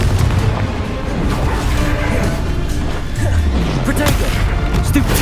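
Confringo spell blast in the Hogwarts Legacy video game, explosive crashing booms amid ongoing combat effects, dense and loud, with some voice mixed in.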